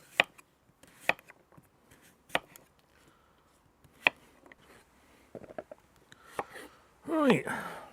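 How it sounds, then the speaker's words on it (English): A knife chopping tromboncino squash on a board, with sharp, separate cuts at an uneven pace, close and fairly quiet, ending in a brief scraping rustle. "Don't have to be too fancy with the chopping because it's all going to get blitzed at the end anyway."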